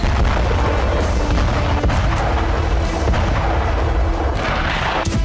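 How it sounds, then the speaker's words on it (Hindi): Loud, dense barrage of booming cannon and artillery fire, heavy thuds overlapping continuously with sharper cracks scattered throughout. "टैंक और तोप बारूद उगल रहे,"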